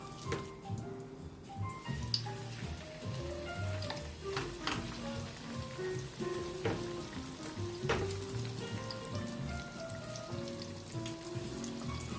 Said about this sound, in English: I'm going to be, like I said, browning my steaks on each side